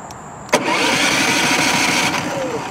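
A Westinghouse iGen4500 inverter generator engine cranks after a sharp click and churns steadily for a couple of seconds without catching, close and fairly loud.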